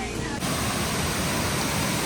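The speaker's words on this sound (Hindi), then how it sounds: "तो गाइस पहुंच गए हम झरने के पास।" A waterfall on a trek in the Urgam valley gives off a steady, loud, rushing roar, close by and continuous for the whole stretch.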